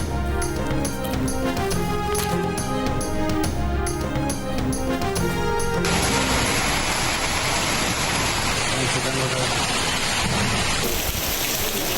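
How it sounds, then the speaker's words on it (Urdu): Heavy rain with hail pounds down steadily, loud and dense. Music fades out at about six seconds, leaving the downpour alone. "بلوچستان کے کئی شہروں میں طوفانی بارش اور ژالہ باری"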